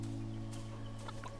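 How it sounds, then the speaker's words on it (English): Chickens cluck softly in the video game Mutazione, a few faint, short calls over a steady tonal hum of background music. "I hear chickens."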